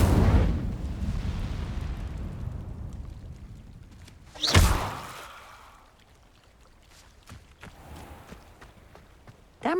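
An Incendio fire spell blast in Hogwarts Legacy, heard as a loud rumbling burst at the start that fades, then a sharp whooshing crack midway, followed by quieter scattered clatters.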